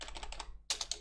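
A few quick clicks on a computer keyboard, close and quiet, in a brief burst with a short pause partway through.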